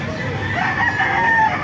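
Hiraw and Golden Boy Sweater gamefowl roosters crow at a busy tyangge market in Baliuag, with layered calls rising over steady crowd babble throughout.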